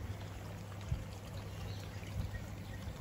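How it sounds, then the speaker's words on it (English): Heavy rain pours down beside a koi pond, a steady, dense hiss of water that continues evenly for the whole stretch with no talking. "It's absolutely pouring down here now again."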